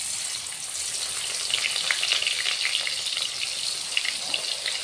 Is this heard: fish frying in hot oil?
yes